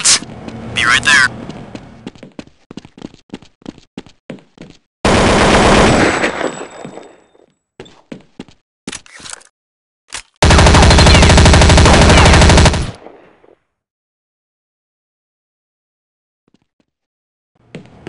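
Automatic gunfire from Counter-Strike: Condition Zero, heard as loud sustained bursts with short single shots between them, then a long unbroken volley near the end before the sound falls quiet.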